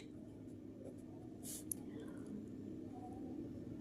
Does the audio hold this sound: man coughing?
no